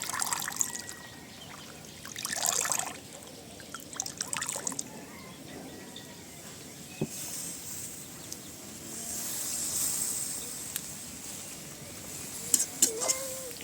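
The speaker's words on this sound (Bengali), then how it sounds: "এখন এগুলোকে সুন্দরভাবে ধুয়ে নিব" Sweet potato leaves are rinsed by hand in water, with soft splashing, trickling and dripping and occasional louder sloshes in a quiet kitchen.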